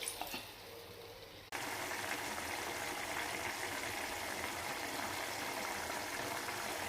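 A small amount of water is poured into a simmering fish curry, a quiet close hiss and sizzle that starts abruptly and continues steadily, with no talk.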